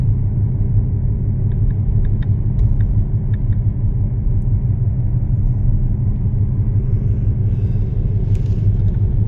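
Steady engine rumble of a car being driven during a driving lesson, a continuous low drone heard close and alone throughout with no voices.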